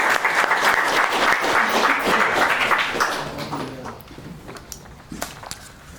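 Applause from an audience at a startup demo day event in Belgrade, a dense wash of clapping that gradually thins and fades, with scattered individual claps trailing off near the end.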